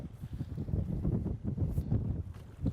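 Strong wind gusts across an open lake during a fishing outing, a continuous low roar and buffeting that swells and dips, with faint boat and water noise beneath.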